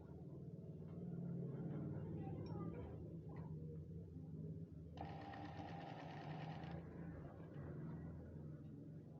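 Sewing machine stitching a seam, a steady close mechanical whir with a brighter, faster run of stitches in the middle, over a low room rumble with no talk.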